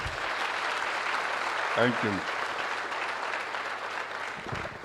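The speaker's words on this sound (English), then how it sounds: "I think he deserves another round of applause." Sustained applause from a conference hall audience, steady and moderately loud throughout. Someone speaks briefly in the middle over the clapping.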